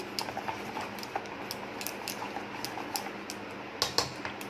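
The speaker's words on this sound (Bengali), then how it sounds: "ধনেপাতা ডিমটা দিয়ে ভালো করে ফাটিয়ে নিচ্ছি।" A fork beats raw eggs mixed with coriander leaves in a bowl, making quick, light, irregular clicking taps that stay fairly quiet throughout.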